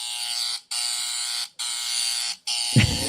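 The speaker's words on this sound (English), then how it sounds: "This razor's dull." An electric shaver buzzes in three loud, steady bursts separated by short gaps, with a brief rustling thump at the end.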